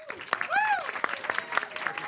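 Scattered audience claps pop through a panel discussion after an election, sharp separate hits under a speaking voice that carries over them.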